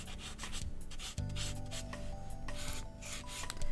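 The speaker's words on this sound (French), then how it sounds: "on est en train d'estomper aussi le dessin qui est en dessous" A blending stump rubs over charcoal on paper to smudge a drawing, soft close scratchy strokes repeating in an uneven rhythm, quiet and alone.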